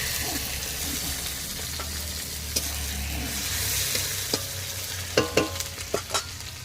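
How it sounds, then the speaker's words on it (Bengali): Chopped tomato and onion frying in oil, a steady sizzle with a series of sharp utensil clacks and scrapes as the pan is stirred, growing busier toward the end. "এখানে দিয়ে দিচ্ছি আমি টমেটো কুচি আর পেঁয়াজ"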